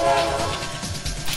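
Toy train horn from the Fisher-Price Learning In Toyland video game, a loud sustained tone at the start that fades into rumbling rail clatter, heard alone.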